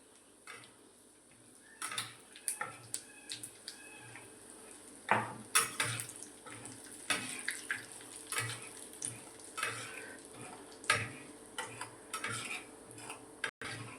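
Cumin seeds and asafoetida being stirred in a pan with a spoon, quiet repeated scraping and metallic clinks against the pan at an uneven rhythm, close and faint.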